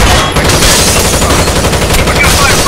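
Rapid, dense gunfire from a firefight in the video game Rainbow Six Vegas 2, loud and continuous throughout with no pauses.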